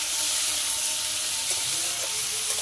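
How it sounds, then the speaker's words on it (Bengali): Mixed vegetables sautéing in a pan after releasing their water, with a dense, even sizzle and hiss that holds steady throughout, close and unbroken by speech. "সবজিটা ফের ভালোভাবে কষিয়ে নেব। সবজি থেকে জল ছেড়ে দিয়েছে।"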